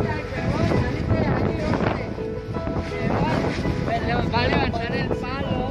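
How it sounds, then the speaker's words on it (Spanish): Strong wind gusting outdoors while children fly kites, roaring and buffeting the microphone continuously, with voices and chatter mixed in throughout. "Está muy fuerte el viento."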